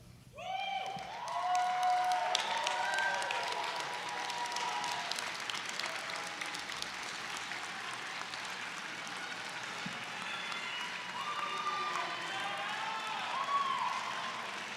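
Graduates at the Penn State Dickinson Law commencement ceremony applaud, a sustained wave of crowd clapping that swells, dips slightly and builds again, with a few cheers rising above it.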